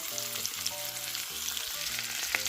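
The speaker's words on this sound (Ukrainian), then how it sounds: "На цій же сковороді у жиру смажимо й овочі, смажимо 2-3 хвилини до м'якості." Vegetables and apples sizzle steadily in fat in a hot pan, a continuous crackling hiss with occasional stirring sounds, close by.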